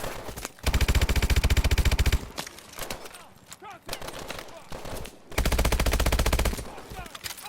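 KF5, an MP5-style submachine gun in Call of Duty: Advanced Warfare, fires two sustained rapid automatic bursts, loud and close, separated by a stretch of scattered shots and game effects.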